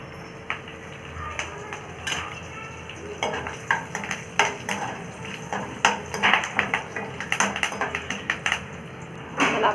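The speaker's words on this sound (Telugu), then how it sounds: "ఇలా పోపు బాగా వేయాక" Tempering of garlic cloves, a dried red chili and curry leaves frying in a pan, with a low sizzle beneath repeated scraping and stirring knocks that grow busier and louder, close by.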